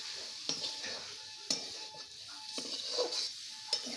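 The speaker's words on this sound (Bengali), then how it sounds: "ভেজে নিচ্ছি মশলা দিয়ে" Spices fry in a pan for a sour mango chutney, a quiet low sizzle broken by four or five distinct taps of a utensil against the pan.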